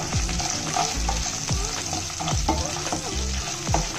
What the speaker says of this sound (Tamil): சின்ன வெங்காயம் இதை போட்டு நல்லா சுருளை வதக்கிக்கலாம்